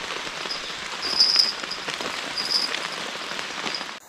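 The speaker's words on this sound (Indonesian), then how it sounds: "Tiba-tiba kita dihampiri gerimis dan angin yang cukup kencang." Steady light drizzle patters on surfaces nearby at a riverside forest campsite, a soft continuous hiss with faint scattered drips, no voices.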